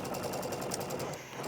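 Domestic sewing machine stitching quilt patches together: a steady, close whirring hum with a fast, even mechanical pulse, running on its own without speech.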